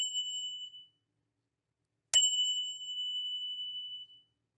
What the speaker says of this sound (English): what do you think is going to happen if I ding them and then I instantly touch them? The vibration's going to stop.